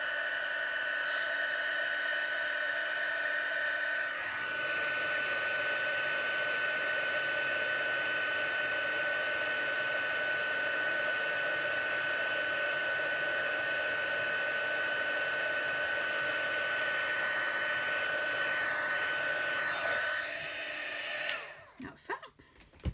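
An embossing heat tool runs during card making with a steady, whining, hair-dryer-like blow that holds for about twenty seconds and then shuts off with a few clunks.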